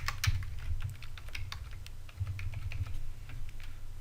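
A computer keyboard typed on at a quick, irregular pace, keystrokes clicking close and clear with a low background hum and no speech.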